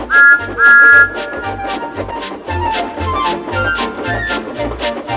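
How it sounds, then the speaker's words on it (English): Two short, shrill steam engine whistle peeps ring out at the start, followed by a busy run of tuneful, whistly melody with a light rhythmic beat underneath, from a Thomas & Friends story. "He blew an angry peep, peep on his whistle."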